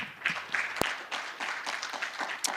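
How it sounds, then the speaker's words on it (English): Audience applause for a conference panel at a mental health and addiction conference, a short burst of scattered clapping at moderate level with a sharp louder clap standing out. "Let's give them a round of applause."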